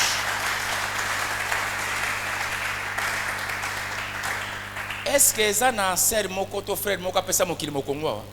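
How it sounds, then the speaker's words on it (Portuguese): A church congregation applauds in steady, dense clapping for several seconds before a voice begins speaking over the fading applause. "Aplauda para o Senhor Jesus."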